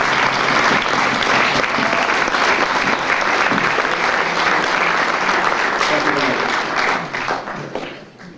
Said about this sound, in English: So one more time, a round of applause.